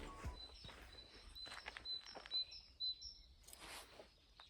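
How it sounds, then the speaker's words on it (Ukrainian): Scattered high bird chirps and short tweets sound from a distance over a quiet outdoor background, mixed with a few soft footsteps and rustles. "Пташечки співають."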